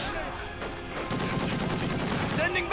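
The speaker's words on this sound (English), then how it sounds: "Not sure why he's moving up there close, coming under fire there" Gunfire in Company of Heroes 2, a World War II strategy game: a dense, steady clatter of overlapping shots and bursts, loud and continuous for the whole stretch and growing busier partway through, with faint speech mixed in.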